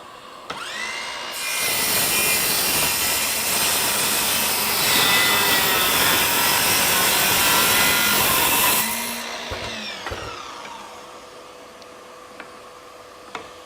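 A Ryobi 18V 7-1/4-inch sliding compound miter saw spins up and slices through a wooden board, a loud steady cutting whine lasting about seven seconds before the blade winds down, with faint clicks and handling noise after.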